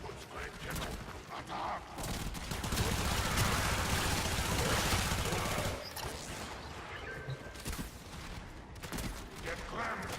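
Rapid weapon fire in the Warframe video game, a dense burst of automatic shots that swells loud in the middle and thins toward the end, with scattered impacts and a voice talking over it.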